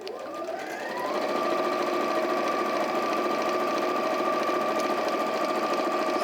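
A sewing machine stitches a quilted beach hut wall hanging. It whirs up from a slow start into a steady, fast, even hum and runs on continuously, close and clear, with no speech.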